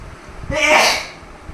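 A single sharp sneeze bursts out close by, rising quickly and fading within about a second.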